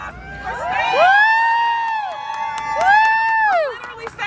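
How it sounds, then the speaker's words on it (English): An outdoor rally crowd at a snowy Chicago women's march cheers loudly, with high whoops and shouts rising over steady cheering that swells twice across a few seconds. "Give yourselves a round of applause."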